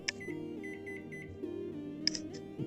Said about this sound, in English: Good old beeps.